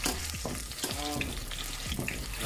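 Jamaican saltfish fritters fry in a pan with a steady, dense sizzle and crackle throughout, joined by a few brief clatters or scrapes of a utensil; no one speaks.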